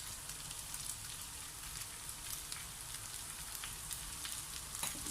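Close, busy sizzling from string beans dropped into spicy pork giniling frying in a pan, a dense crackling hiss that holds level the whole time with no voices.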